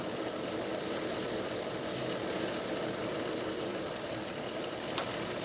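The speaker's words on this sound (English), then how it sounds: "Gentle polish from the back, flat." Steady abrasive rubbing as a knife blade bevel is polished flat from the back, close and continuous with short pauses and changes in stroke, a faint click near the end.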